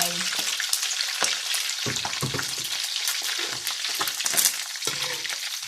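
Sun-dried marinated pork deep frying in hot oil, a dense close crackling sizzle throughout with bursts of sharper popping and spattering, no talking.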